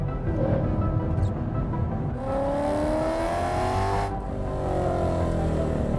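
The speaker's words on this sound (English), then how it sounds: "Just listen to the sound of that thing." BMW E92 M3 engine revving hard under acceleration, loud and close, with rising pitch through the gears and a brief dip at a shift.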